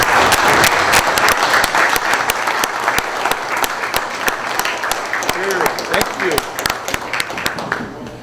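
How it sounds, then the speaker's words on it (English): An audience at a City of San Juan commission meeting applauds steadily and loudly for the full stretch, a dense wash of clapping with a few sharp claps standing out, tapering slightly at the end. "let's give him another big round of applause"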